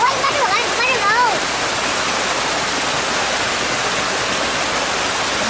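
A mountain stream rushes through rocky crevices, a loud, steady broadband roar of flowing water, with a voice talking briefly over it at the start.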